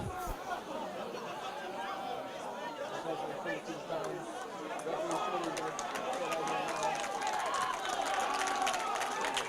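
A rugby crowd at a Varsity 2022 match reacts with a steady roar of babble and cheering that swells slightly toward the end, with loud overlapping chatter throughout.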